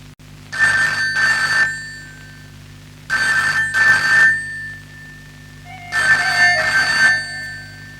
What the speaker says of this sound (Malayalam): എത്ര നേരമായി ഫോൺ അടിക്കുന്നു, അതൊന്ന് എടുക്ക്.